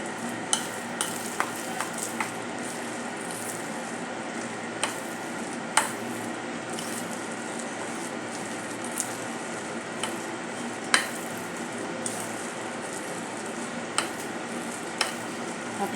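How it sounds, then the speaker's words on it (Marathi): Spinach fritter batter with a pinch of baking soda being stirred in a bowl, a steady wet squishing churn with scattered sharp clicks of a spoon against the bowl, close and continuous with no talk. "एक चिमूटभर आपल्याला सोडा घालायचा आहे, खाण्याचा सोडा. मिक्स करून घेऊया."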